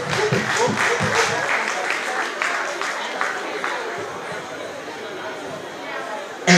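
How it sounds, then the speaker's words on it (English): A concert audience claps and cheers in an enthusiastic burst that gradually tapers off into softer scattered clapping and crowd murmur. "Can you please give him a round of applause?"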